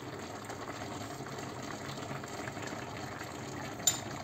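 Water is poured from above into a pot of cabbage rolls, a steady gushing and splashing fill that runs throughout, fairly quiet and close, with a small clink near the end.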